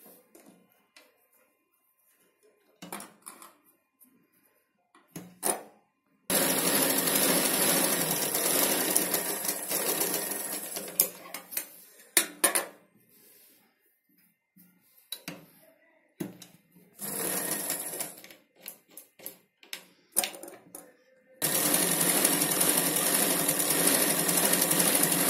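A sewing machine runs straight stitching on a Punjabi dress pant in a few long loud bursts, broken by quieter stretches of fabric handling and small clicks, heard up close.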